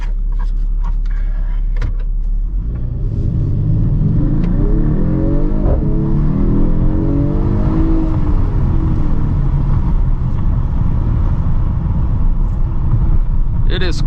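A 2021 Mercedes AMG GT 43 4-Door Coupe accelerates hard, the engine note rising through a gear change and surging again, loud and close inside the cabin after a few clicks.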